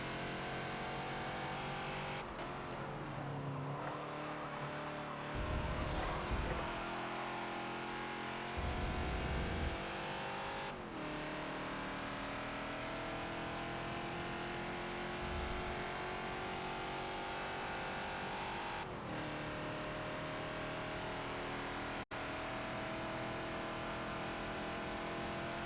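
A Ford Falcon XB race car laps Road America in the video game Forza, its engine revving hard through repeated gear shifts and lifts, with brief tire squeal and no talking over it.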